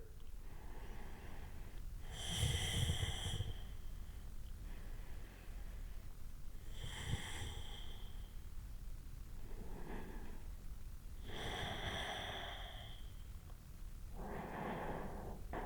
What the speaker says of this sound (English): A few rounds of breath here.